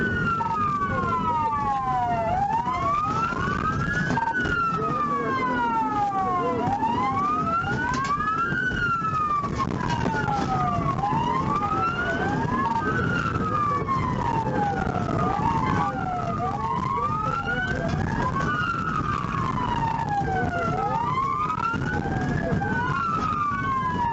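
Police car siren wailing in repeated rising and falling sweeps, loud and steady for the whole stretch, over road and traffic noise during a pursuit of a stolen Dodge Durango driven by a teenager.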